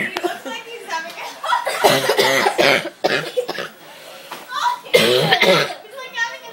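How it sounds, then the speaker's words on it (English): A person lets out several harsh, bursting coughs mixed with voices, chuckles and talk nearby, loud and close, with short pauses between the fits. "I never cough like that"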